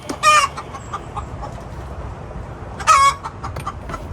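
Hen clucking loudly after laying an egg, two sharp excited squawking bursts about two and a half seconds apart, close by, over a low background rumble with no speech.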